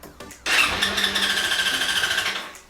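A Suzuki DR-Z dual sport motorcycle starts: a brief starter crank, then the single-cylinder engine catches and settles into a loud, steady, rapidly pulsing idle close by before cutting off.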